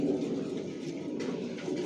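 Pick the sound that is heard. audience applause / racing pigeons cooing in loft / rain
racing pigeons cooing in loft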